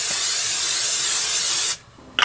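Olive oil heating in a regular pot on a small fifth-wheel camper stove, giving a loud, steady broadband hiss that cuts off abruptly near the end, followed by a short faint clatter.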